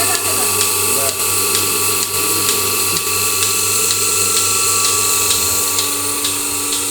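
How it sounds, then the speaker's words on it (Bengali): A Turkish-made Melasty milking machine milks a cow, its loud, steady mechanical hum overlaid with regular pulsing beats about twice a second, continuous and close. "দুধ দোহানো মেশিনের সাহায্যে সহজেই দুধ দোহানো হচ্ছে।"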